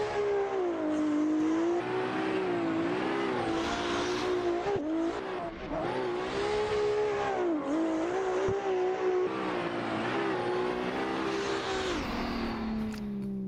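Drift car on a solo competition lap at a VDM drift event in Ireland, its engine screaming loud and near throughout with rising and falling revs, steady high-pitched whine and tyre noise, no talk.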